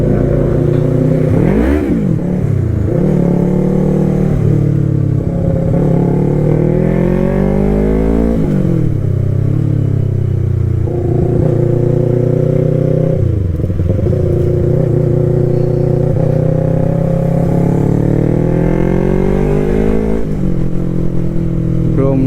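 A Yamaha YZF-R3 motorcycle's exhaust note rises and falls through repeated revs, each climbing whine dropping back before the next, loud and close for the whole stretch.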